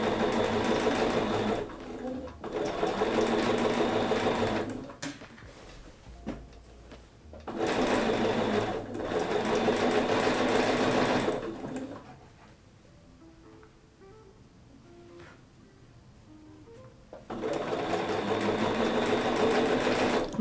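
A sewing machine with a sensitive foot pedal stitches a quilt top in steady, close whirring runs, stopping and starting several times, with a quieter lull of about five seconds before the stitching resumes at full volume.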